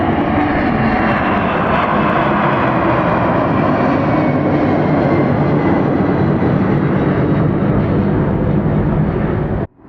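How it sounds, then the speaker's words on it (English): A Boeing 767 jet airliner at Atlanta Hartsfield-Jackson airport roars loudly and steadily close by, a broad continuous engine rumble and hiss lasting nearly ten seconds before cutting off abruptly. "Boeing 767. I apologize for calling you an Airbus. That's a Boeing."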